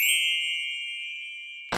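A single bright electronic notification ding rings out cleanly and decays slowly over more than a second, with no talk, before a brief cut at the end.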